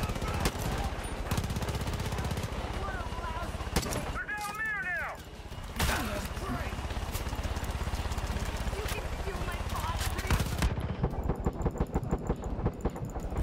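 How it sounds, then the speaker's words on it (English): Gunfire in Far Cry 5 rattles in dense, continuous bursts throughout, mixed with game noise and a few sharp cracks, while someone talks over the shooting. "I'm shooting you."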